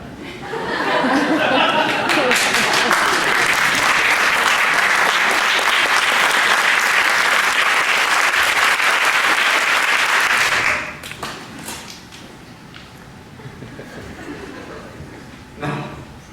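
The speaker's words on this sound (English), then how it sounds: "I trust the moderation of your applause merely means you're conserving your energies for the final curtain." A theatre audience gives sustained, dense applause with some laughter for about ten seconds, then it drops away to scattered claps and murmurs.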